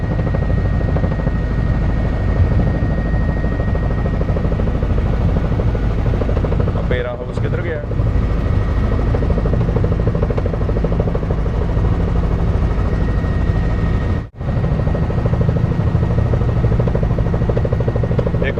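A helicopter on a sightseeing flight over Sydney, a loud steady rotor and engine drone heard from inside the cabin for the whole stretch, with brief dips and people speaking underneath.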